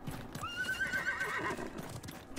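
A horse's clip-clop hooves and a clear neigh ring out in the Realm Royale battle royale game, the whinny rising over steady galloping footfalls at moderate volume with no talk.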